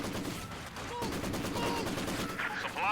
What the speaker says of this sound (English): We do got a Zis gun destroying the sandbags.